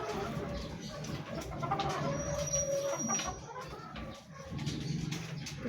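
White Kelso hens in a backyard coop give soft, continuous clucking and cooing sounds close by, with a steady murmur of bird noise throughout.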